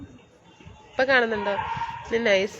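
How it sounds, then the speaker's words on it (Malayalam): A dog gives two drawn-out yelping barks nearby, one long and one shorter, at a home during a power cut, with a person speaking briefly in between. "പട്ടി കുരയ്ക്കുന്നു."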